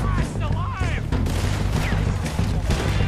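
Gunfire in Red Dead Redemption 2, rapid overlapping shots and crackling bursts over in-game noise, with someone talking excitedly over the shooting.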